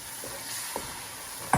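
Paneer cubes frying in a pan with chili powder and black pepper for shahi paneer, a soft continuous sizzle broken by a couple of brief stirring scrapes, the last one louder.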